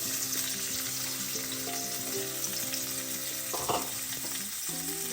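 Sliced onion and green chilies frying steadily in a hot pan for a black gram thoran, a dense continuous sizzle with a brief scraping stir partway through, no voices.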